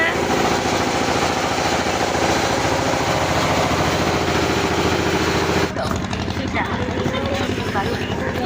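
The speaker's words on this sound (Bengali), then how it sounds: "তো দেখো আমরা সবাই লঞ্চে উঠে পেরেছি। লঞ্চ ছেড়ে দিয়েছে।" A ferry launch engine runs loudly after pulling away toward Swarupganj ferry ghat, a dense, steady rumbling drone that dips and shifts slightly near the end.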